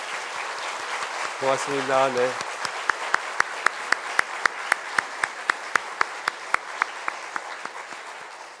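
A church congregation applauds to welcome a visiting pastor at an afternoon worship service, with a brief spoken thanks before sharp, sparse claps ring out in the hall.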